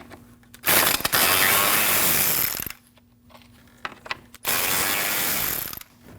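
Ratchet loosening the two 10mm bolts that hold the coolant reservoir bottle on a 2003-2008 Subaru Forester 2.5L, two close, loud bursts of rapid clicking, each about two seconds long, separated by a short pause.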